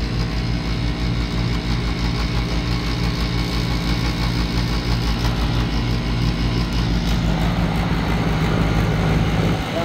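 An old Lennox HVAC unit's compressor runs with a steady, close mechanical hum and low vibration that holds unbroken for the whole stretch.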